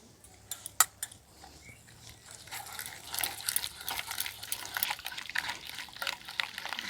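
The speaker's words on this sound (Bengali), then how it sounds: "খুব ভালোভাবে ফেটিয়ে নেব।" Thin batter being whisked with black cumin, turmeric and salt for gourd-leaf rolls stuffed with coconut and prawn: close, quiet liquid slaps and clinks of utensil against bowl, a few sharp taps early, then a steady sloshing rhythm.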